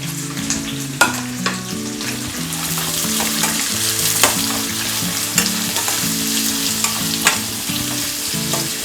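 Sliced onion frying for egg biryani, a dense close sizzle with a few sharp scrapes and taps from stirring, all under background music.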